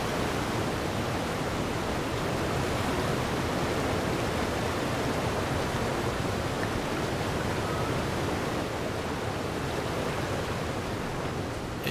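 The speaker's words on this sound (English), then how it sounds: "Listen to the water." Flowing water in the Palia video game, a continuous broadband rush like a waterfall or stream, steady and even throughout with no voices.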